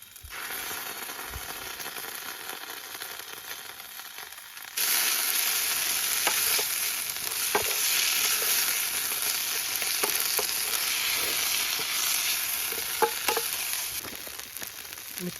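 Ginger paste sizzles loudly in a hot pan for crab biryani, cooked outdoors, the frying jumping louder partway through and holding as a steady hiss with scattered pops and spatula scrapes.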